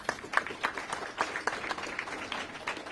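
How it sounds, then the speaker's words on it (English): A modest round of clapping from a coalition event audience, scattered individual claps blending into light applause, fairly faint and steady throughout. "Let's give them a round of applause"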